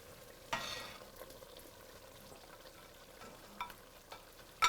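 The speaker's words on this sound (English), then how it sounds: "now it's time to add the meat back in" Beef stew meat being added back into a pot, a faint close sizzle with a few scraping stirs and brief clatters of a utensil against the cookware, quiet overall.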